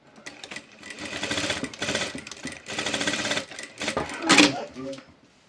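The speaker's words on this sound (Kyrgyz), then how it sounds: "Эми бул тарабын мындай алып тигип коебуз." A sewing machine runs in several quick stitching bursts while sewing fabric for small gift bags, its rapid mechanical chatter stopping and starting, with a person speaking between runs.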